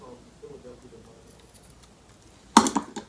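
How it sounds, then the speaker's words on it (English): Scissors snip ribbon streamers on a handmade corsage: after quiet rustling, a sharp close cut lands followed by a couple of quicker snips. "I am gonna snip them"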